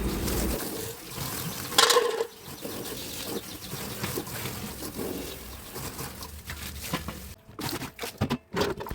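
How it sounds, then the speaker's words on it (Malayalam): A hose sprays water over kitchen trolley unit parts during cleaning, a steady close rush and patter that runs throughout with brief breaks near the end. "ഇനി ഇങ്ങനെ ഓസ് പിടിച്ച് എല്ലാം ഒന്ന് വെള്ളമടിച്ച് ക്ലീനാക്കി"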